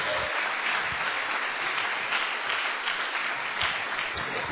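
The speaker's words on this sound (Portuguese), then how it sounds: "Uma salva de palmas para o Senhor." A church congregation applauds for the Lord, a steady wash of clapping at moderate level continuing evenly from start to finish with no speech over it.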